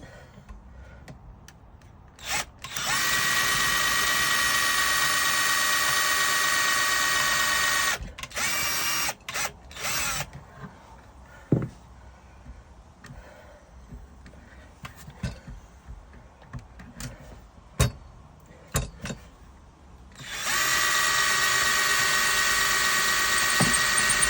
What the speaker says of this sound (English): Come on, drill, get in there,